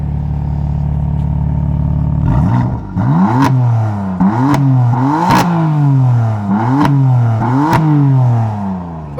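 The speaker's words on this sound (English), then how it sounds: "let's go ahead and head to the back with a little rev time with Vanessa." A BMW M4's exhaust roars loud and close, first idling low, then a series of sharp throttle blips that each rise quickly and fall back, with crackles at the peaks.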